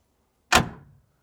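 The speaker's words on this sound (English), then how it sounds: "I want you to listen to how this door closes." The door of a 1965 Chevrolet Corvair Monza with freshly cleaned and lubricated latches shuts once, a single solid close thud with a short fading ring, alone against silence.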